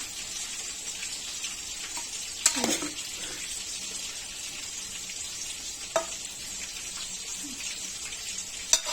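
Chicken frying in a pan with onion gives a steady, close sizzle throughout, broken by a few sharp clinks or stirs of a utensil.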